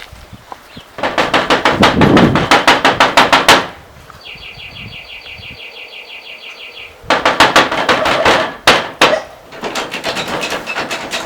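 Knuckles rap on a house door in two long runs of rapid, loud knocks, separated by a quieter gap in which a faint high electronic tone sounds, then a few scattered knocks follow.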